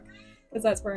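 Lily, a pet cat, lets out one short, clear meow close by, right after a person's voice says a few words.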